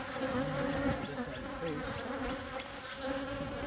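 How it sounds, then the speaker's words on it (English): Honeybees around a hive during an inspection, a dense, continuous buzzing of many insects at close range with a few wingbeats passing near, fairly quiet overall and without speech. "Looks like you got a spider web that's getting some bees up there too."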